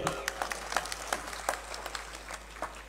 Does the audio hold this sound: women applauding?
yes